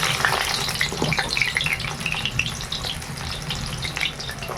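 Salted boiled potatoes fry in a pan with a continuous close sizzle and crackle, scattered bright pops and spatters over a steady hiss.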